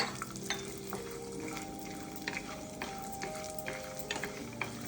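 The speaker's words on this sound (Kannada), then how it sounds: "ರೋಸ್ಟ್ ಆಗ್ತಾ ಇದೆ. ನೋಡಿ, ಸೌಂಡ್ ಬರ್ತಾ ಇದೆ." Dry coconut or cashews roast in a hot pan during bhel puri and khara puri prep, a steady soft sizzle with light stirring scrapes and occasional taps, close and fairly quiet, no voices.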